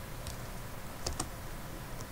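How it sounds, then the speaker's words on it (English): A few quiet, crisp keystrokes on a computer keyboard, with two or three clustered clicks near the middle over faint room noise. "you'll have to type set execution policy"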